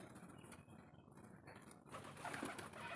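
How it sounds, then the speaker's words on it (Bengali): A pigeon coos softly on a rooftop, a few low, faint calls over light background noise, with no talking. "এইটা হচ্ছে সেই পায়রাটা"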